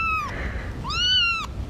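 A kitten meows twice, close and fairly loud, each call a rising-then-falling cry with a short gap between them.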